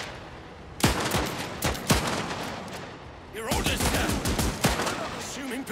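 Gunfire in the video game Last Train Home: sharp, loud shots in scattered bursts, some rapid volleys overlapping, with battle ambience between them and voices calling out.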